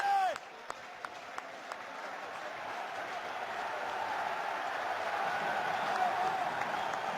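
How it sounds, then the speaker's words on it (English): A rugby stadium crowd at a Toulon versus Exeter Chiefs match builds a broad roar of cheering and clapping, swelling gradually as a commentator talks over it. "Now the crowd beginning to find their voices."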